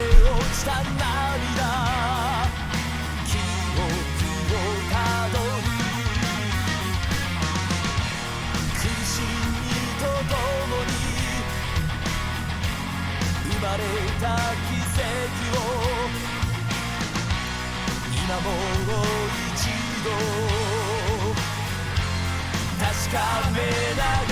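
A heavy metal song with a dense distorted guitar riff and heavy low end plays continuously, full and driving with busy drums across the whole stretch, no talking over it.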